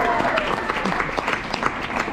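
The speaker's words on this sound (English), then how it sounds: "that deserves a round of applause" Audience at a Persian Nowruz festival applauding, a close, lively round of clapping with distinct individual claps and some crowd murmur beneath.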